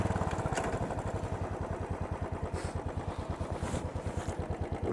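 A Royal Enfield 500 Bullet motorcycle engine thumps along a beach road in Tampa, Florida, with a steady, evenly spaced single-cylinder putter, close and moderately loud.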